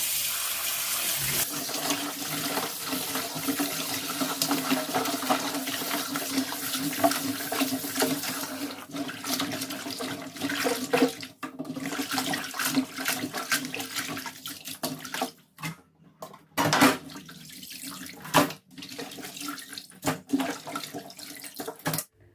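Tap water runs steadily onto a pork leg being rinsed for braising, a loud continuous splashing rush that later breaks up into intermittent gushes and pauses as the meat is handled.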